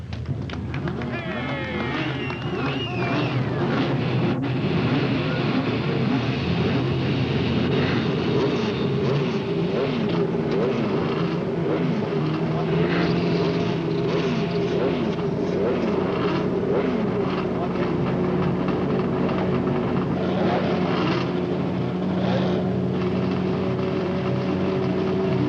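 IndyCar race car engines start and idle together at Laguna Seca at the final race of the 1989 season, a dense, continuous, buzzing roar of many engines throughout, with a commentator speaking over it.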